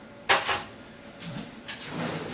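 Spoon scraping and clinking in a bowl while mixing chocolate with coconut oil for Scotcheroos, two sharp clatters at first, then softer scrapes and a few lighter knocks.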